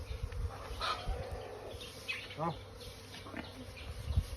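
Wild cavity-nesting bees buzzing as a hive is collected from a hollow, with intermittent close buzzes and passing bee flights over faint outdoor background.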